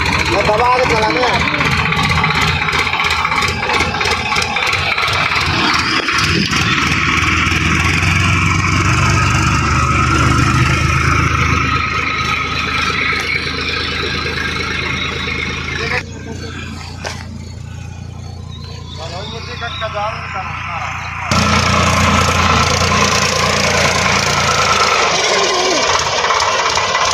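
A new-model Swaraj 744 XT tractor engine on a power test with a Siddal machine, running loud and steady with a heavy rumbling drone. The engine dips briefly in the middle and then comes back, with voices shouting over it.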